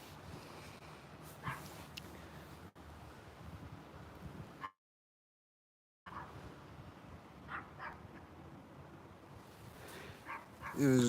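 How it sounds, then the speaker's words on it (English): A dog barks outdoors, scattered barks and yips carried over wind and ambient noise, briefly cut by a stretch of silence, then resuming. "There's a dog barking as I walk up to here, you know?"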